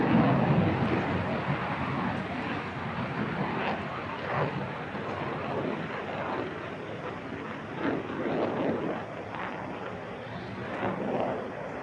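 A fixed-wing aircraft performs a flying display at Farnborough International Airshow, its engine a distant, steady roar that swells and fades with the manoeuvres, mixed with wind noise.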